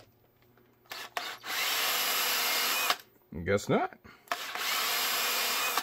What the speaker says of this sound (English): Apparently I didn't drill this.